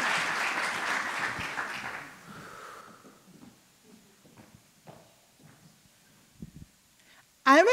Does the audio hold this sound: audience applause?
yes